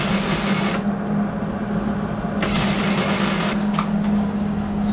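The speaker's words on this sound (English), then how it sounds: "All right, let's weld her on there." Welding a part onto a Nissan 240SX bumper gives a steady, close buzzing crackle with a constant hum, cutting out briefly about a second in and again near the middle, with no talk.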